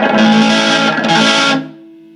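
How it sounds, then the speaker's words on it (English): Loud, buzzing overdriven distortion from a high-gain circuit with a harsh, saturated tone sustains for over a second, then drops to a quieter low hum. "there's some distortion"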